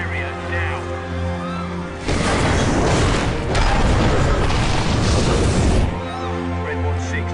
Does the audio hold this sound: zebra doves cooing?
no